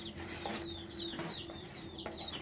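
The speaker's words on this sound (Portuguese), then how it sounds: "Nunca tinha ouvido pintinho dentro. Muito interessante." A hen clucks with a chick peeping inside its egg, short high chirps recurring over a steady low clucking hum, close and continuous throughout.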